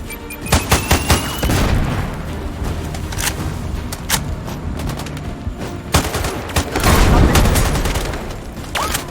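Rapid bursts and single shots of gunfire in the sniper video game Sniper Ghost Warrior Contracts 2, loud and close, with booming impacts and a dense rolling fusillade throughout.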